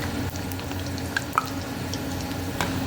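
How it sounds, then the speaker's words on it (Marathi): Modaks fry in hot oil with a soft, continuous sizzle, broken by a few small pops and drips. "आता आपण त्यामध्ये मोदक टाकले तळायला."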